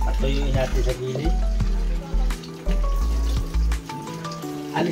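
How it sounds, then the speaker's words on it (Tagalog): Water runs steadily from a kitchen sink tap, a continuous close rush with clinks and knocks of dishes being washed over it. "Isara natin yung gripo mga kapatid para hindi na sayang tubig."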